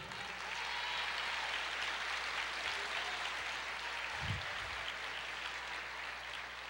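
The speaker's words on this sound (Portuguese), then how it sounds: "Pode aplaudir o Senhor." A church congregation applauds together, steady dense clapping from many hands filling the room throughout, with a brief low thump partway through.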